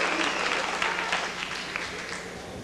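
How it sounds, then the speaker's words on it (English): Crowd at a 1989 World Cup of Darts match in Toronto cheering and clapping after a score of 120, a loud, sustained roar that gradually eases. "Brings a All right. big cheer from the crowd."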